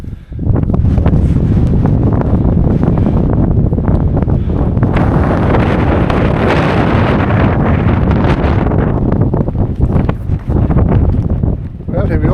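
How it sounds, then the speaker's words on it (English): Heavy wind buffeting a microphone on the summit of Bannerdale Crags, a Lake District fell: a loud continuous roar with gusts swelling and easing throughout, close and rumbling. "Pity it's too windy to get me drone up."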